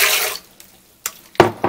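Water poured into a pan of chicharrón simmering in salsa verde, a short burst of splashing up front, then a few separate splashes and pours, close and fairly loud.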